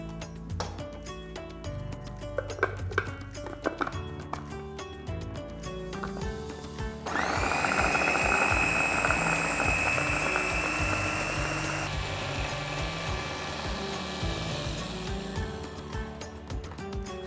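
A food chopper grinds hard aromatic spices with shallots and garlic, starting up midway as a loud, continuous whirring buzz that holds steady until the end, after a stretch of lighter clicking and rattling.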